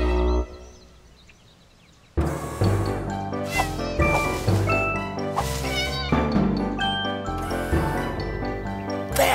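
Cartoon cats meow and caterwaul over loud, busy background music, with several stretched cries mixed into the score.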